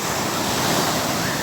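Rushing surf washes in steadily, a broad, loud wash of breaking waves mixed with wind buffeting the microphone.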